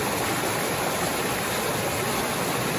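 Waterfall at Cachoeira do Mágico in Bonito, Pernambuco: a steady, dense roar of falling water, loud and unbroken throughout, with no voices.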